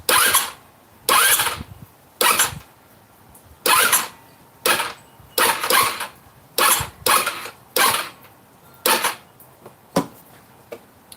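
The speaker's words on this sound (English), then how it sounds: "So I'm gonna turn the motor again." A small 150cc Chinese scooter engine cranks in repeated short bursts, about a dozen pulls with brief pauses between them, never quite catching and running steadily.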